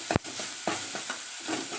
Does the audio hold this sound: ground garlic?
yes